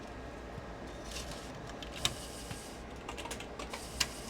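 Mechanical clicking and whirring from a floppy drive struggling to read a defective gold label Fujifilm disk, with two sharp louder clicks among steady faint ticking and noise.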